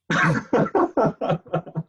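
A burst of several harsh coughs from a bad cough in quick succession, close and fairly loud, with short gaps between them.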